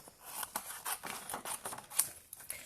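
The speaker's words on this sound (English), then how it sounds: "Now for the long bit, which is for me to fussy cut these out." Small scissors snipping through papercraft pieces in a home craft session, a quick irregular run of close, crisp cuts, faint and alone without talk.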